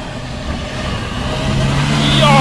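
A Traga pickup truck's engine revs and climbs steadily in pitch and loudness as it climbs a slippery rocky hill, close and loud with rough outdoor noise.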